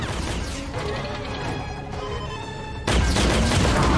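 Turret guns firing in The Mandalorian: a dense, continuous barrage of blasts and crashing impacts, loud and close, swelling sharply near the end.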